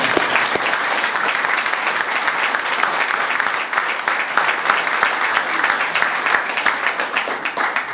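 A crowd welcoming a new Hofstra men's basketball coach breaks into steady, loud applause, dense hand clapping sustained throughout with faint voices mixed underneath.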